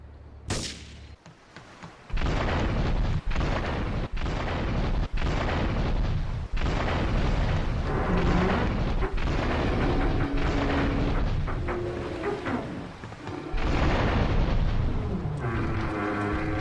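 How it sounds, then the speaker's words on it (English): Explosions and heavy gunfire tear through Portland Harbor in the GTA III remaster, a dense, loud barrage of booms and blasts that rolls on almost without pause after a brief quiet opening. "Investigate reports of gunfire and explosions."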